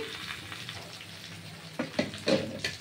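Ginger and garlic fry in a pan for a fish-head mung dal, giving a steady close sizzle, with a few louder scraping stir strokes in the last second.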